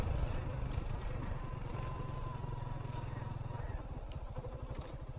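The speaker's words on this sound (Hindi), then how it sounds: "इसकी बाइक मैं चला रहा हूँ" A motorcycle ridden along a road near Mumbai gives a steady, close engine putter with a rhythmic throb that continues throughout, and a voice is faintly audible.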